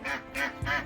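A pet duck called Quacky gives three loud, close quacks in a steady rhythm, each a raspy nasal call, with no talk over them.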